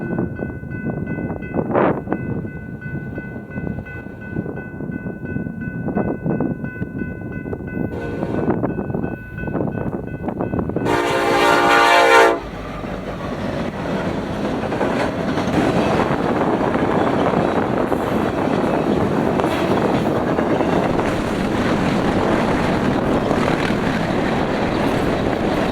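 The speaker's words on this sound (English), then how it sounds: "an eastbound BNSF manifest heading to Barstow, this having BNSF 8509 leading" An eastbound BNSF manifest freight led by locomotive 8509, bound for Barstow at Helendale, sounds a loud, sustained horn blast, then rumbles past close by with steady wind-buffeted rolling noise.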